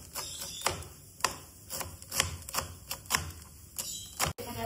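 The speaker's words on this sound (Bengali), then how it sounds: "আর এখানে আমি চপার ওয়াশে শাকটাকে কেটে নিচ্ছি" Leafy greens being chopped in a hand-pull vegetable chopper, a rapid run of sharp ratcheting clacks in a steady rhythm, close and fairly loud, with no voices.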